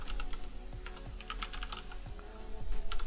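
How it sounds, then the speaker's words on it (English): A password being typed on a computer keyboard, with steady close key clicks in a quick uneven run over a low background hum and no voice. "I'll put in a password."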